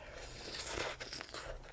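Crunchy vegetables mixed into ramen are chewed close up, giving quiet, repeated crisp crunches and bites in a broken rhythm, with no talking.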